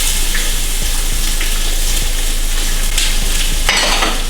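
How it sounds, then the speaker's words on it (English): Peppers and onion hit hot oil with a loud, dense sizzle that roars continuously, broken by a few scraping stirs and a brighter hiss burst near the end. "the oil is nice and hot, so I'm gonna go ahead and add the peppers and onion"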